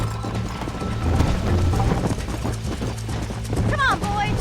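Galloping horses in the video game Red Dead Redemption, with loud rhythmic hoofbeats pounding during a chase, a horse whinnying near the end, and shouting voices in the mix.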